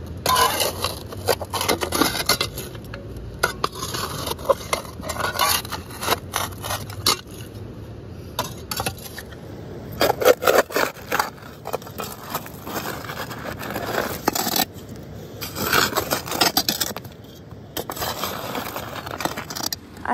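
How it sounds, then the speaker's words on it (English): Shovel digging into coarse, bouldery ground, repeated scraping and gritty crunches with clinks of stones, irregular bursts of effort close by, with no talking. "I have been digging for quite a while. This is so coarse."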